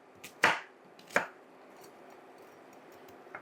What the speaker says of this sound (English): Then we're going to chunk it up really big.